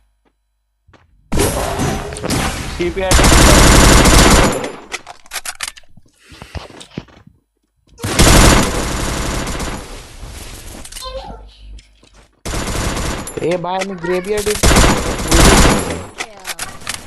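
Double Vector submachine guns in the Free Fire video game fire in three long, rapid automatic bursts separated by short pauses, loud and close, with a player speaking briefly between them.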